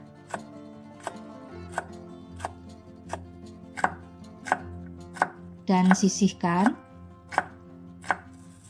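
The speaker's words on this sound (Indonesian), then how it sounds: "Kemudian potong buncisnya" Steady knife chopping of green beans on a cutting board, about one sharp chop per second, close and clear, with a short burst of speech near the end.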